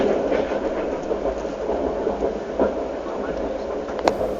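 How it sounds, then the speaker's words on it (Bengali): The Santragachi Chennai AC Express running, a steady low rumble and rattle heard from inside the train, with faint clanks and a sharper knock near the end, and a voice talking under it. "আমাদের train Santragachi Chennai AC express যেটি ঢোকার কথা ছিল চেন্নাইতে রাত সাড়ে আটটায়"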